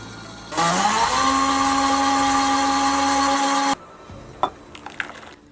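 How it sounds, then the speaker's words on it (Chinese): A kitchen blender whirs loudly for about three seconds, grinding fresh corn kernels with two eggs and milk into a corn slurry, then stops, followed by a few light clinks and taps. "再用料理机磨成玉米浆"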